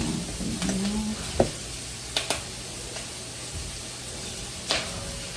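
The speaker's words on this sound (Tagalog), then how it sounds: "pag nag-brown itong sibuyas bawang, ilagay natin ang broccoli" Broccoli dropped into a pan of browned onion and garlic sizzles steadily at a low level, with a few sharp clatters and scrapes of a utensil stirring through the hiss.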